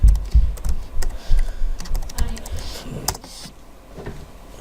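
Close, brisk typing on a computer keyboard while entering login details, rapid clicking keystrokes in bursts with a few heavier thumps, no talking.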